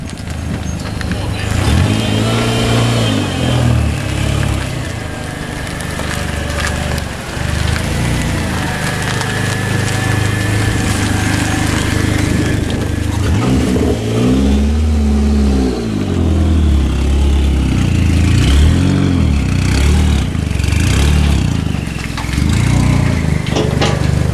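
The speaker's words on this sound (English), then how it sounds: "I hear a little bit of power steering whine." Idling engine of a PT Cruiser GT bought off Facebook Marketplace, a loud steady rumble with a faint power steering whine and occasional revs, with people talking over it throughout.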